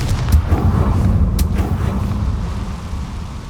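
A Confringo blast spell going off in Hogwarts Legacy, loud and close: a deep rumbling boom with a couple of sharp cracks near the start, then a roar that fades slowly.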